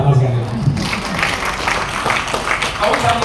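A church congregation at a worship service in a Medan shopping-mall venue breaks into clapping after a brief spoken phrase, the applause moderate and fairly even, with a voice still faintly present beneath it.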